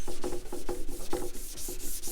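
Wet and dry paper sanding paint on a Citroen Dyane body, a steady series of short, fairly close rubbing strokes in a loose rhythm, with no voices.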